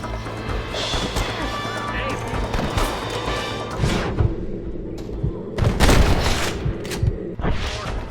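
Gunfire in Red Dead Redemption crackles in repeated sharp bursts and heavy booms over a busy background, with voices shouting between the shots.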